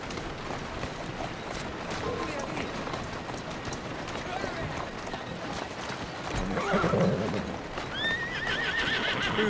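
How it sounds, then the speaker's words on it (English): A horse neighs and trots with rhythmic clip-clop hooves on a Victorian London street in Assassin's Creed Syndicate, with ambient city noise and a voice talking over it; a loud whinny rises near the end. "Who's a good horse?"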